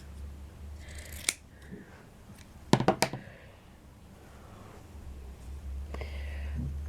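Scissors cutting a folded strip of felt, a few sharp snips spaced apart, with a quick cluster of three in the middle, close and quiet over low background hum.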